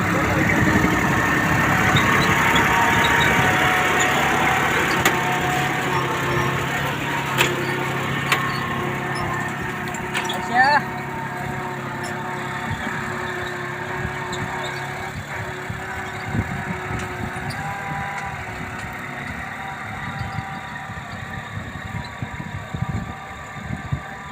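A mini tractor engine weeding a groundnut field runs steadily with a low mechanical drone that eases off slightly over time, accompanied by scattered clanks and talking.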